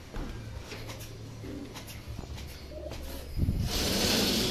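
Racing pigeons coo softly in a loft, low repeated murmuring calls under steady background noise, followed by a burst of rustling or fluttering near the end.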